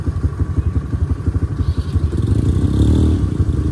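An ATV engine idles and revs nearby at a beach outing in Zambales, a steady rhythmic mid-pitched putter that grows louder and rougher toward the end, with no talk over it.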